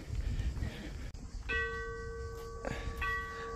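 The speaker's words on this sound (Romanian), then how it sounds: "De ce trag clopotele, Fation?" Church bells ring out with sustained metallic tones, struck a few times over a noisy outdoor background in Nafplion, Greece, moderately distant.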